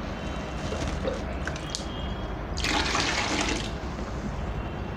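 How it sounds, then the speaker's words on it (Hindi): Water is scooped from a bucket kept on the floor, giving a close slosh and a brief louder splashing pour midway, over a continuous low background rumble. "पानी नीचे से लेता हूँ, बाल्टी में रखा हुआ।"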